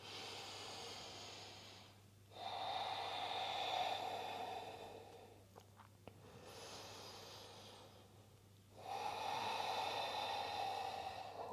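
Slow, deep breathing during a yoga stretch in a power flow class, long audible inhales and exhales in a steady rhythm, close and soft against a quiet background hum.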